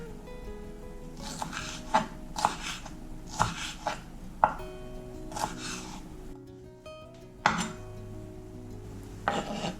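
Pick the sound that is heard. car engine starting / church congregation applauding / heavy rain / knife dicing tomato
knife dicing tomato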